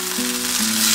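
Vinegar hits a hot pan of veg Manchurian sauce with a brief, close, hissing sizzle that lasts under a second.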